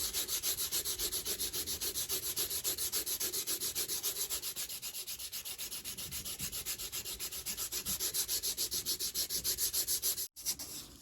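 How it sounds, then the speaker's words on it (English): Rapid, rhythmic back-and-forth rasping of sandpaper rubbed across a water-damaged paper coaster, close and continuous, stopping briefly near the end. "I am sanding all the way out to the edges"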